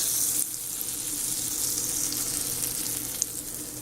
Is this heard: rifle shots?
no